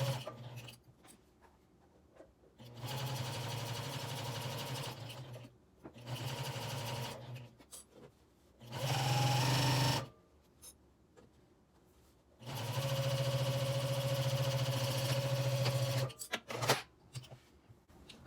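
A sewing machine stitches a quarter-inch seam on a fabric project bag in several bursts of steady mechanical whirring, separated by short pauses and fabric handling, close and fairly loud.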